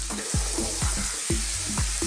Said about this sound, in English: Now I've got this on a fairly high heat. What I want to do is I want to cook this